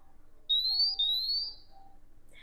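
A MiniMeta single gas detector sounds its power-on self-test alarm, two loud rising electronic beeps in quick succession at close range, followed by quieter tones in a near-silent room.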